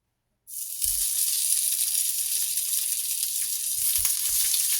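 Leftover fish, potato and onion cakes dropped into a hot pan burst into a loud, steady sizzle that keeps going, broken by a few soft low thumps as they are pressed and moved about.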